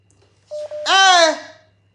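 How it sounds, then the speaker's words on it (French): Telephone dialing tones: one short steady keypad beep, then a louder, longer warbling electronic tone that rises and fades, with no talking over it. "Téléphone là me fait quoi comme ça?"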